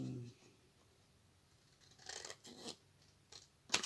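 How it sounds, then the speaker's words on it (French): Scissors cutting a paper tab while making a tag journal page, a few faint close snips and crisp paper rustles over quiet room tone, ending in one sharp louder snip. "Et donc là on va couper l'onglet. Et on va venir faire la découpe."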